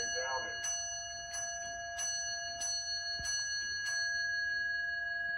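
Single bell strike of an 18th-century English tall case clock movement, a clear ringing tone that hangs and decays over several seconds, with faint regular ticking and a voice talking over it.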